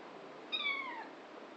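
A single cat meow, fairly close and clear, rises briefly over a quiet hiss of background noise.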